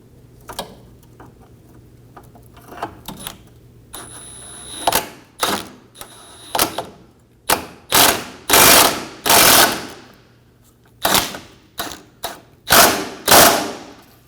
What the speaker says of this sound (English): and snug down your bolt.